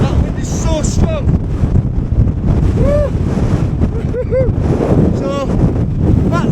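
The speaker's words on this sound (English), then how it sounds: "Wow, that wind is so strong." Strong wind buffets the microphone on the exposed summit of Great Howe Crags in the Lake District, a loud continuous roar with gusty rumble throughout, while a person speaks over it.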